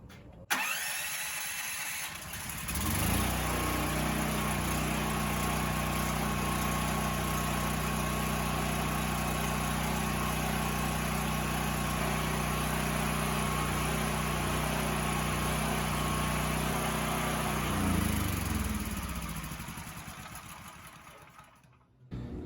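A Predator portable generator engine converted to run on propane, starting up and then holding a steady, droning idle at close range before winding down near the end.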